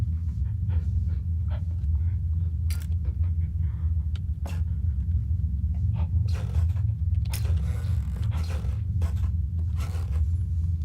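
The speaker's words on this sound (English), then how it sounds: "These boards are way too creaky for my liking." Wooden boards creak and scrape in a dark frozen mine in the game Penumbra Overture, with scattered short creaks and clicks over a steady low rumble, no voices.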